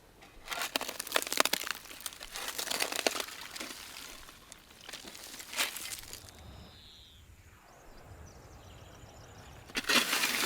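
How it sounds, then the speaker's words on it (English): An axe cuts through a dried clay charcoal stove outdoors, with quiet bursts of crunching, cracking and crumbling at irregular intervals between softer rustling pauses. "Armed with an axe, I cut through to the middle."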